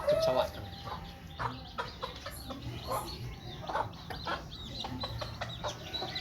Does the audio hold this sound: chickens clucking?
yes